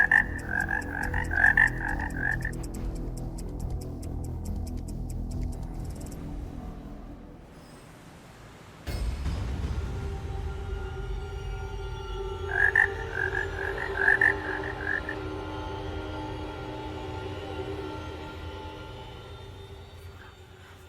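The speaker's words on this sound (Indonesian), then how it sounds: "tadi aku dengar ada suara kodok di luar" Frogs croaking outdoors at night in repeated bursts of rapid, rattling calls, moderately close, with a steady low rumble of distant traffic underneath and no talking.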